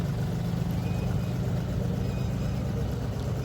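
A tractor drives out to the field, its engine a steady, loud low rumble that holds even throughout, with no voices.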